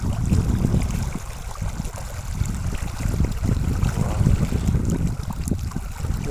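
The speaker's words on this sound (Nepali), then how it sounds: "कतै खोला बगिरहेछ।" A stream flows in Saudi Arabia, a continuous close rushing and burbling of water with a low rumble, steady throughout with no speech.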